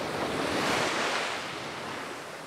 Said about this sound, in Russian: Даже волнушки какие-то небольшие